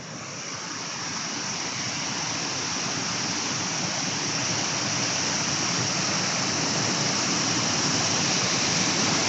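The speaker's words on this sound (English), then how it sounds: "And you hear this for miles, this water at night time. It's so loud." Water pours through Hambleden Weir on the River Thames as a loud, continuous roar, a dense, steady rush heard up close with no pauses throughout.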